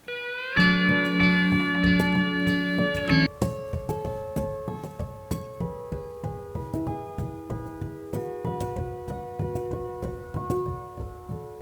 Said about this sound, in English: it's sort of a sequenced piano